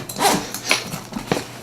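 A thinkTank Streetwalker rolling backpack is unzipped, giving several quick, close rasping zipper pulls in short bursts with brief pauses between them.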